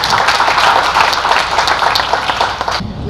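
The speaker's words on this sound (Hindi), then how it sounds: "एक बार तालियां बजाइए दीपाली।" Audience applause for the humorous poet Dipali Jain Jiya at a Hindi hasya kavi sammelan, a dense, steady roar of many clapping hands lasting about three seconds before cutting off abruptly.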